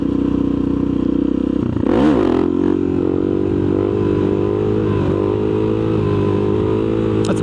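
A motorcycle engine revs hard and steady during a wheelie at sunset, loud and close throughout, with a brief throttle swell and clattering scrape near the two-second mark.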